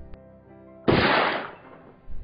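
A single sharp gunshot effect in a dramatized retelling of Abraham Lincoln's assassination at the theater, a loud burst that decays over about half a second, with faint background music before it.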